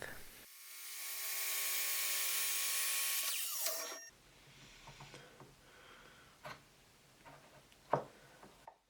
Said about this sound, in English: Finally, I cut the pieces in pairs on the miter saw, making them the same length.